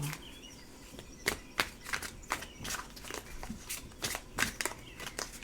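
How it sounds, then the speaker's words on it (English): Tarot cards are shuffled by hand in a quick run of crisp riffling bursts, about two per second, close and steady, with no voices. "as I'm shuffling these cards"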